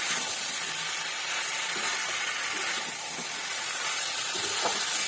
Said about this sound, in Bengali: সর্ষে অল্প করেই কষিয়ে একদম মশলার মধ্যে দিয়ে দিলাম আমি সবজি